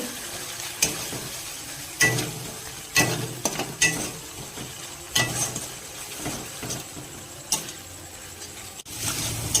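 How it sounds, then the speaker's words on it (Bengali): Spice paste with chilli paste fries in oil in a pan for a prawn and banana-flower dish, a steady sizzle broken by sharp clacks of a spatula stirring and scraping the pan at irregular intervals. "এবার মশলাটাকে ভেজে নিব"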